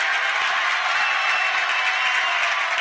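A packed OHS gymnasium crowd at a boys varsity basketball game roars steadily, a dense, loud wash of cheering and clapping with no break.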